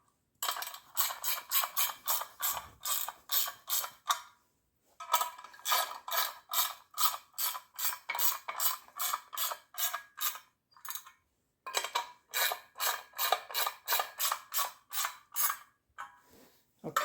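Bolts on a Yamaha secondary clutch are tightened a little at a time, giving quick, repeated ratcheting clicks in three bursts separated by brief pauses, close and fairly quiet with no talking.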